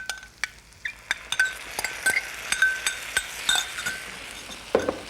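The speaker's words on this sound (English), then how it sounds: "Give that a good stir," Lentils and flavouring stirred in a pan with a metal spoon, giving a steady run of light clinks and scrapes against the pan, close and alone.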